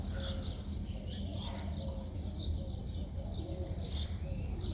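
Soft, low cooing of several pigeons feeding on scattered grain, mixed with faint chirps over a constant outdoor rumble.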